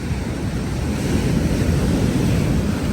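Heavy sea swell surges and breaks below a sea cliff on the Cumbrian coast, a loud, continuous rushing roar mixed with wind buffeting the microphone.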